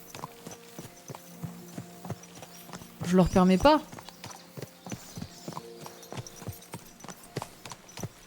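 Steady clip-clop of horse hooves walking at an even pace in the video game Kingdom Come: Deliverance II, with a voice speaking over them partway through.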